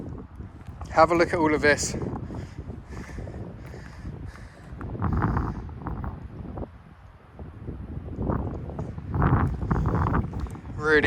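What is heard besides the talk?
wind blowing outdoors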